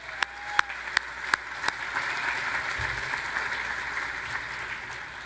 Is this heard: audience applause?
yes